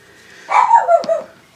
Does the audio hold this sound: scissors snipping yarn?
no